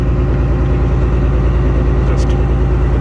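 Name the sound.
boat engine running before boarding a ship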